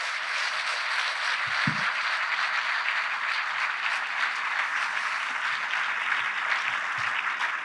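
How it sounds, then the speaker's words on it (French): Loud, continuous applause from a conference audience after a speaker, a dense even wash of clapping with a few soft low thumps and no talk. "Vous pouvez l'applaudir très très fort."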